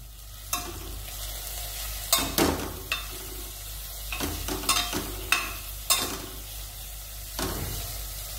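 Ground basella spinach stirred in a pan, a spoon scraping and knocking the pan in irregular strokes over a soft sizzle, close up with no talking.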